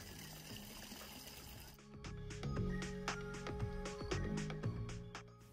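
Water pours and splashes steadily from the picturesque town fountain on Place Montfort in Vaison-la-Romaine, a soft, continuous flow heard alongside faint tonal background sound.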